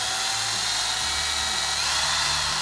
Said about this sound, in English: Some people are lazy and don't pre-drill their holes.